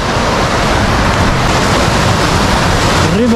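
A fast river in Hunza Valley, Pakistan, rushes with a loud, constant broadband roar, steady and close throughout, mixed with some wind noise.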